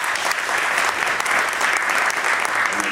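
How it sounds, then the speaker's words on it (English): An audience at a high school anniversary event gives steady, dense applause for Wall of Fame inductees, loud and sustained without a break. "Give them a round of applause,"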